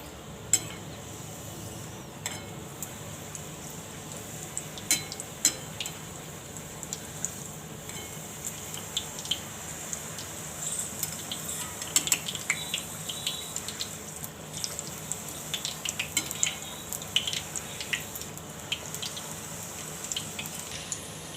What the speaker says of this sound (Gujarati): તો તેલ આપણું ગરમ થઈ ગયું છે. તો આપણે હવે એક એક કરીને આ રીતની તળવાની છે.